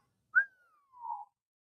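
A single clean whistle from a song: a sharp high onset gliding slowly downward into a lower sustained note, alone against silence.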